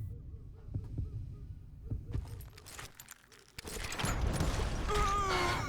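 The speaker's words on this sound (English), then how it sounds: "Hear the heartbeat" Heartbeat during a Call of Juarez: Gunslinger duel, a steady low thudding pulse repeating at an even rhythm, later joined by rising game effects and a busier, louder mix.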